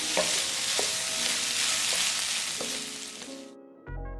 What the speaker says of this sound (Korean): 썰어놓은 어묵, 당근, 양파 넣고 1분 정도 볶아줬다.